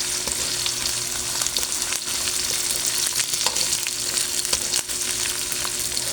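Onion hits hot oil in a frying pan for a chicken, tomato and bell pepper sauté, giving a loud steady sizzle with sharp crackles and pops close up, and no one speaking.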